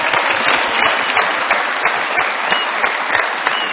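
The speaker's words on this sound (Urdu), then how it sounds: "صحیح تالیوں میں ویلکم کیجیے گا" A TV studio audience applauds loudly and steadily, a dense continuous wash of clapping that welcomes a game show winner of a motorcycle, with the host's voice faintly underneath.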